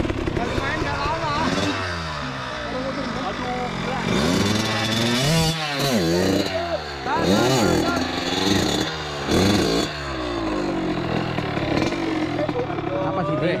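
Motorcycle engine revving hard on a steep uphill climb, repeated rising and falling throttle bursts with rough mechanical clatter, loud and close, with people talking over it.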